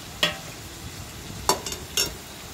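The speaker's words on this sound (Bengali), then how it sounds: "এবার ভাজা পেঁপে আলুটা দিয়ে দিলাম, তারপরে একসাথে এবারে মশলার সাথে ভালো করে মিশিয়ে নেব।" Fried papaya and potato being mixed with spices in a pan: a low sizzle under three distinct spatula scrapes and clanks, spaced about a second apart.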